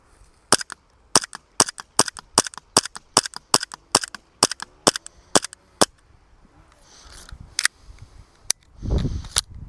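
A VFC Walther PDP airsoft pistol fires about fifteen sharp, snappy shots in a steady rhythm at a target 10 meters away on an airsoft range, followed by a few scattered later shots and a low rustle.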